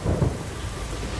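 Rain and thunder in the video game A Plague Tale Requiem: a low rumble of thunder swells at the start over a steady wash of heavy rain, with no talk.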